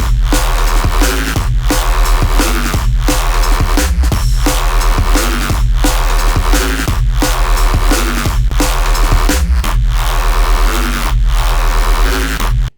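Loud, dense neurofunk bass patch made in the Serum 2 synthesizer, with a growling, detuned, constantly moving tone pulsing in a steady rhythmic pattern throughout, heard alone until an abrupt stop.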